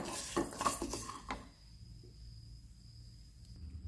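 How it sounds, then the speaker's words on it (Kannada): Urad dal, one spoonful, being dry-roasted in a pan until brownish, with a few close metallic clinks and scrapes of a spoon against the pan early on, then a quiet low hiss as the lentils toast. "1 ಚಮಚ ಉದ್ದಿನಬೇಳೆ, ಚೆನ್ನಾಗಿ ಬ್ರೌನಿಷ್ ಆಗೋವರೆಗೂ ಹುರಿಬೇಕು"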